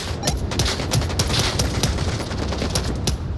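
Continuous gunfire from the VR shooter Onward, with rapid, dense bursts of automatic shots rattling steadily and loudly throughout, over a constant noisy game backdrop.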